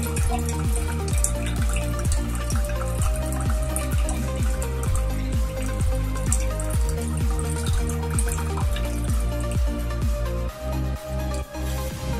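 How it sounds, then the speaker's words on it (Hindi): Excess reject water runs steadily out of a mineral water purifier, a continuous close trickle and splash with a rhythmic pulsing drip pattern throughout, no voices. "अभी देखिए एक्सेस पानी निकल रहा है"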